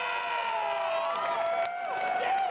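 A live audience at the Bethesda E3 2019 showcase cheers and whistles loudly and without a break, a dense, sustained roar of crowd noise with shrill whistles running through it.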